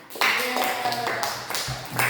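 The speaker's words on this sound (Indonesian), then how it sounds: "Tepuk tangan." Classroom students clapping hands together in a short burst of taps, mixed with a teacher's voice talking over the claps nearby.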